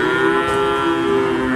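A cow at a livestock market gives a long, loud, sustained moo close by, with no speech.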